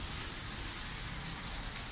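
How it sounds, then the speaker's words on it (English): Steady outdoor rain falls on wet pavement with puddles, a soft, even hiss that stays constant throughout with no voices. "So it's still kind of raining today."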